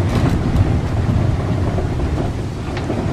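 Strong wind buffets an exposed storm campsite by the sea, a loud, constant roar with gusty swells and no one speaking.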